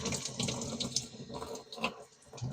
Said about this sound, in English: Rinse your blade off every so often